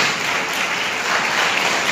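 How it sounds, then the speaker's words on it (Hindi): A congregation at a Sunday church service claps together in a loud, dense burst. The clapping runs continuously and evenly, filling the space from start to finish. "ताली बजा के परमेश्वर को"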